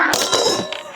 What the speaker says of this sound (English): I knocked the camera over.